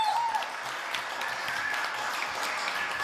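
A television studio audience applauds a singer being introduced for her new album, a steady wash of dense clapping throughout the short stretch, moderately loud and without speech.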